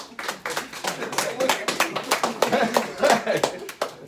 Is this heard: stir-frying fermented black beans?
no